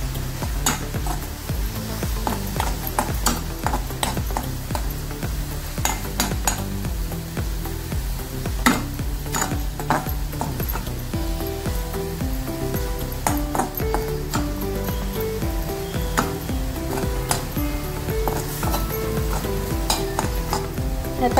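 Diet paneer being stirred and fried in a pan, with a steady sizzle under repeated spoon scrapes and light metallic pings against the pan, continuous and close for the whole stretch.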